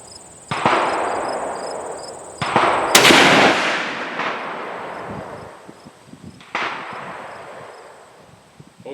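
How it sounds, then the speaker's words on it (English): Rifle shots from 130gr Sierra Game Changer reloads with Reloader 17 powder fire outdoors: two sharp, loud reports and a third a few seconds later, each with a long decaying echo, alongside a faint steady high whine. "I think I dropped the gun a little bit as it went off."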